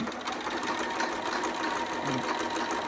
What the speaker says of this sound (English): we're going to back stitch again because we're at the beginning of that fabric again